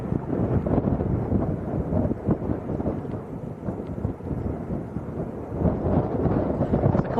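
Strong wind buffets a microphone and tripod at an airport, producing continuous loud, low rumbling gusts and thuds that surge and dip without pause.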